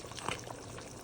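Water is poured into a cooking pot of meat being stewed for a family gathering, a faint, brief splashing trickle with a small surge near the start.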